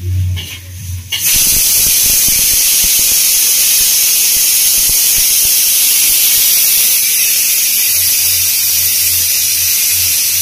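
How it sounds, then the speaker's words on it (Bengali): A pressure cooker on a gas stove venting, a sudden loud, continuous hissing whistle of steam that starts after a brief quiet moment and holds steady, close by. "দুটো সিটি হয়ে গেছে, গ্যাস অফ করে দিচ্ছি।"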